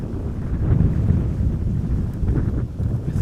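Strong crosswind at Amsterdam Schiphol Airport buffets the microphone, producing a steady, loud low roar with rumbling gusts that rise and fall across the whole stretch.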